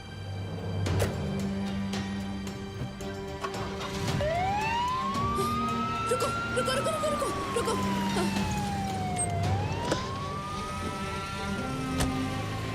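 An ambulance siren wails in rising and falling sweeps amid loud traffic noise, with a voice repeatedly shouting over it.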